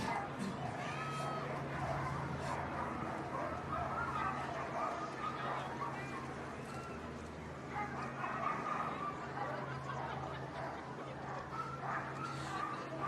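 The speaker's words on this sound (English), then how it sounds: "the Mushers and their dog teams at Iditarod 53" Iditarod sled dog teams bark, yip and whine steadily at the race's ceremonial start in Alaska, a dense chorus of many dogs with crowd murmur and an announcer talking over it.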